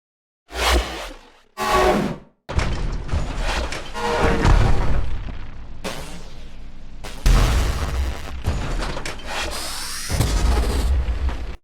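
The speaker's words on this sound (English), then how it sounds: "For the grenade launch animation, I've used synthesis combined with pitch automation and LFOs." A synthesized grenade launch effect with pitch automation and LFO modulation, heard as a string of loud, separate whooshing, booming bursts, several with pitch sweeps rising and falling, no voices.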